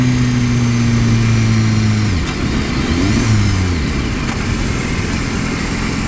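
A 2015 BMW S1000RR motorcycle accelerates hard using its quick shifter, its loud engine climbing steadily in pitch, then dropping sharply at a gear change and climbing again, with constant wind rush over everything.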